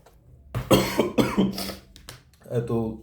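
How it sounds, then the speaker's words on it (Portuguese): Several harsh coughs come in a quick run, followed after a short pause by one more cough, close and fairly loud. "já tô uma semana tossindo"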